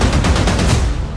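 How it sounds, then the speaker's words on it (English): Rapid gunfire in an action movie trailer, a dense loud burst of repeated shots lasting about a second. "Were those gunshots?"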